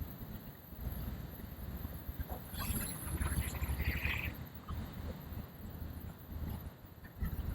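An eight-and-a-half-ton loaded truck climbs a hill in first gear, its engine giving a low, steady, strained rumble and labouring throughout, with faint rattles and clatter and no talk.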